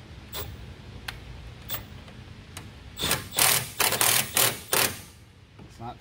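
A ratchet spins lug nuts onto a Honda Pioneer 1000 rear wheel, giving a few sparse clicks at first, then a dense burst of fast rattling ratchet strokes in quick clusters, close and fairly loud.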